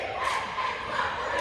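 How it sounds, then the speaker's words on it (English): A crowd roars and cheers continuously, a dense wash of many voices holding steady for the whole moment. "Now we're cheering back, Bubba."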